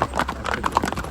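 A horse on a hill-station path at Matheran clip-clops in a quick, close run of hoof beats.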